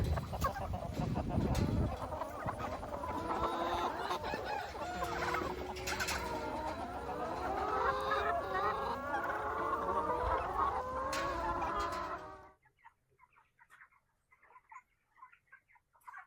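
A pen of 250 Cornish cross chickens clucking and chattering together for about twelve seconds, close and busy, then cutting off to near silence with a few faint sounds.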